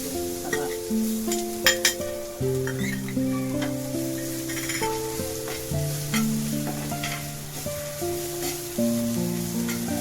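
Curry leaves and green chili-ginger paste sizzle and crackle steadily in hot oil, with a spoon stirring through the pan and faint clinks, while soft tonal music plays underneath throughout.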